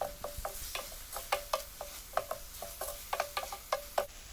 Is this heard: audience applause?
no